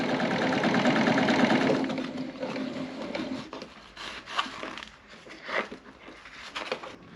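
A sewing machine sews a homemade tool bag for a motorcycle, running in a loud continuous whir that stops after a few seconds, followed by softer handling thumps and rustling of the fabric, with no talking.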